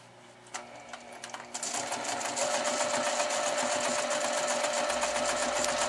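A sewing machine runs steadily for free-motion microstippling on a quilt, starting with a few short bursts and then settling into a continuous, close, fast whirring stitch.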